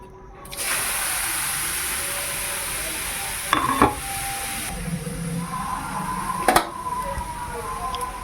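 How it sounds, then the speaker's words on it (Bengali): Steady sizzling of carrots frying in ghee in a kadai, with a couple of brief stirring scrapes partway through, close and continuous. "ঘিয়ে গাজরটা ভালো করে ভাজা ভাজা করে নেব"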